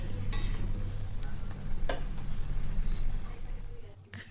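Raw mango pieces for an oil-free pickle are stirred in a pan, with a few sharp spoon scrapes standing out over a steady low simmering hiss.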